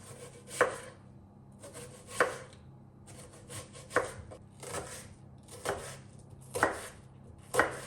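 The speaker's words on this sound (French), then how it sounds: "je vais couper un oignon" A knife chopping an onion on a board, six or seven evenly spaced, fairly close strokes in a slow regular rhythm with quiet pauses between them.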